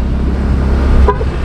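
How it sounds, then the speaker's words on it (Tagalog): A Yamaha Mio Gear 125 scooter horn sounds once in a short, loud, close toot near the end, over a steady rumble of the idling engine and road noise. "yung busina natin ngayon"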